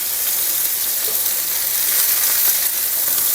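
Salmon with its skin down frying in a pan, a loud continuous sizzle and hiss close by, steady throughout with no talking.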